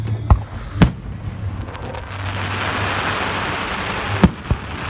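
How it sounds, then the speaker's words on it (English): Fireworks at a Fourth of July show, a few sharp booming bursts at the start and again near the end, with a crackling, hissing wash of distant explosions filling the gap between them, outdoors and loud. "All this just because of fireworks show."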